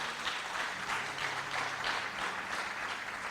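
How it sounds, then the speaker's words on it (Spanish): Congregation in a church applauding after a sermon line, steady diffuse clapping at a moderate distance, fairly soft and continuous throughout without speech. "Dar un aplauso a Jesucristo de Nazaret."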